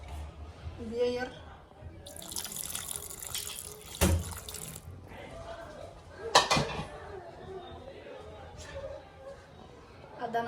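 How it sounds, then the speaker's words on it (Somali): A small splash of water poured into sweetened yogurt for a homemade nutritious drink, brief liquid trickling and splashing near the mic, mixed with kitchen clatter and someone talking over it. "biyo yar"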